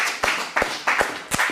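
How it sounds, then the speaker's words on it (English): Four separate bursts of clapping from a small audience in an acting studio, evenly spaced and close by, each sharp onset fading quickly, like a few people applauding a first performer coming on stage. "Go ahead and clap for our very first person."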